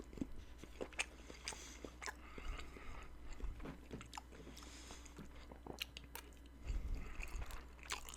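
Kraft mac and cheese is eaten close to the microphone, with soft, wet chewing and bites repeating quietly and steadily.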